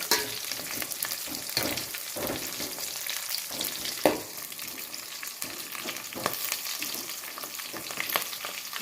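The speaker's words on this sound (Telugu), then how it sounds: "ఇది కొంచెము ఫ్రై అయినాక అన్నీ బాగా కలుపుతూ ఫ్రై చేసుకోవాలి." Green chillies and mint fry in a pan for bagara rice, stirred constantly, producing a continuous close sizzle broken by repeated spoon scrapes and light knocks, with no voices.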